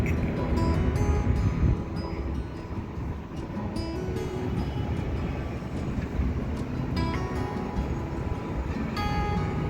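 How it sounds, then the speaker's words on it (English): Blustery wind rumbles and buffets a GoPro microphone continuously outdoors among trees, a low roaring wash with occasional clicks and rattles. "So it's a little bit windy."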